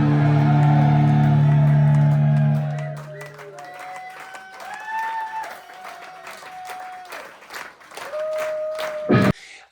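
Loud, dense audience clapping and crowd noise at a live guitar performance for the first few seconds, then fading into quieter sustained guitar notes with scattered claps and hand sounds.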